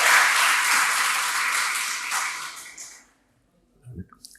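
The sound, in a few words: audience applause welcoming a guest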